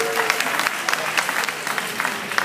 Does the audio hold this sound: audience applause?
yes